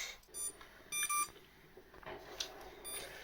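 A drone device gives off intermittent electronic beeps, short bright tonal bursts repeated several times at moderate volume over faint background noise.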